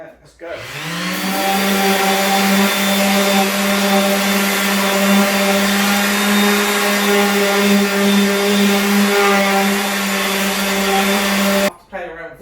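An orbital sander with 180-grit paper and a vacuum attached runs steadily for about ten seconds while stripping paint, giving a loud, continuous whirring hum that starts and stops abruptly.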